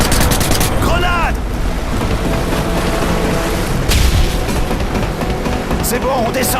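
A grenade blast in a Call of Duty Modern Warfare 3 mission booms amid dense gunfire, explosions and battle noise, loud and continuous, with shouted French voices mixed in.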